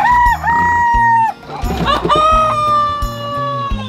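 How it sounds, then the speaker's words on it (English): Chickens cluck and squawk close by on a farm while a rooster crows loudly in long, drawn-out calls, with overlapping bird voices and brief noisy scuffling in the middle. "Chicken friends."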